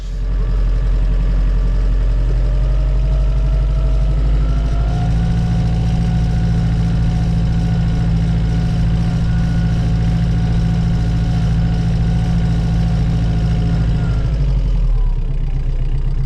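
A loud, steady engine drone fills the cab of a Lamborghini R1.55 orchard tractor, holding a low rumble throughout with a slight pitch rise partway, then easing near the end.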